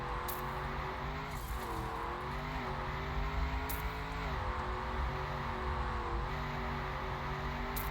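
The desert car in Trackmania's Summer 2024 campaign, driven with a wheel: a steady, buzzy engine drone that shifts pitch up and down through gear changes, with a few sharp clicks over it and no talk.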